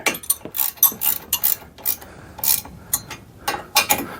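Wrench tightening the bolts of a Baker luggage rack on a Polaris Slingshot, a quick run of metallic ratcheting clicks in short bursts, loud and close, with no voices.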